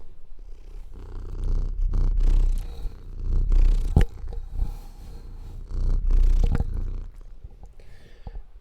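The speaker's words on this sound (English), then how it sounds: "I don't know if you hear that, but he's purring," A cat purrs close to the ear in low, rumbling waves, with a few soft rustles and bumps breaking in between.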